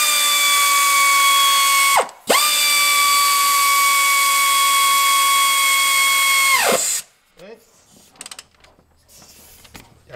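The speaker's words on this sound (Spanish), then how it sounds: "Ahora lo que tenemos que hacer es apretar todos los tornillos" A power tool with a high whining tone tightens bolts on a 2010 Subaru Forester engine during an engine swap, running in two long close bursts separated by a short break, followed by softer clinks and handling noises.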